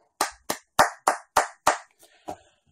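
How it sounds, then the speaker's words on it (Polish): Six sharp claps in a steady, quick rhythm, then two softer, scattered claps trailing off; close and clear with no voices. "Przede wszystkim brawa."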